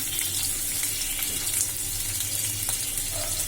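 Chopped garlic hits hot oil in a pan and sizzles with a steady, bright, crackling hiss that stays loud and close throughout, with no speech.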